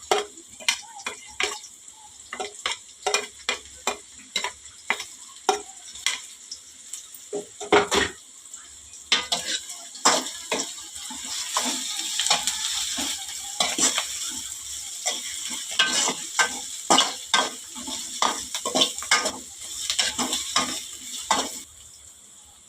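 Green chilies and curry leaves frying in hot oil, crackling and sizzling close up, with repeated scraping of a spoon against the pan in uneven bursts, no talking.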